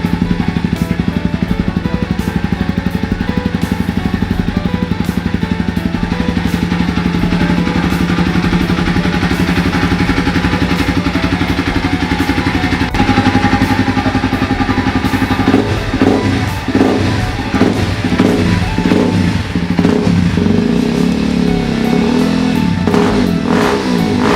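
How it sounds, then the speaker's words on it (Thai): A motorcycle engine fitted with an idle-speed adjuster runs steadily at a low idle throughout, a continuous mechanical hum with a few slight rev fluctuations near the end. "นี่ครับรอบเครื่องยนต์ก็จะเบาๆนะฮะ"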